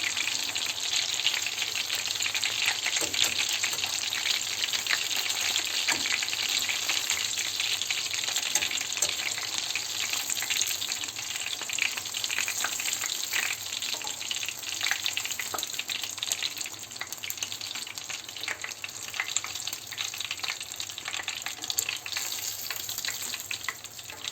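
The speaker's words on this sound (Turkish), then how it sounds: "Diğerlerini de aynı şekilde kızartacağım." Oil sizzles and crackles steadily as chicken schnitzel fries, a dense continuous hiss with no voices.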